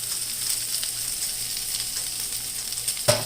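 Kimchi fried rice sizzles in a hot pan: a continuous, even crackle of frying held close, with a brief sharper clatter near the end.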